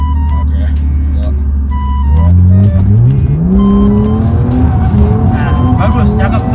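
BMW E36 drifting around cones on a course, its engine droning loudly then revving up in rising sweeps as tires squeal, with a man coaching in Indonesian over the noise.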